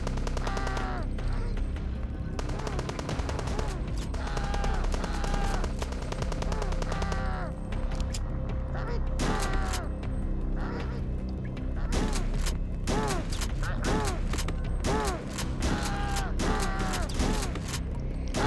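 Super shotgun blasts boom repeatedly in the video game HROT's cemetery level, loud, close heavy shots fired in quick irregular succession over game music and enemy cries.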